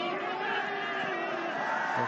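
Football stadium crowd at an AFC Champions League Two match between Al-Taawoun FC and Sharjah FC, a steady continuous roar of cheering and chanting filling the space without pause.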